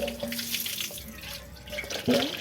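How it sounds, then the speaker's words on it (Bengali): Water runs steadily from a tap into a sink as potatoes are washed, a close, continuous splashing flow with small clunks of the potatoes being handled. "আলুগুলো ধোয়া হচ্ছে"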